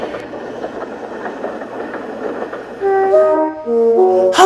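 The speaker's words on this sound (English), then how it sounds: "Boko the big diesel was waiting with a goods train." Boko, a big diesel engine waiting with a goods train at a junction, gives off a steady rumbling clatter of rail wagons that gives way to bright, rising melodic tones near the end.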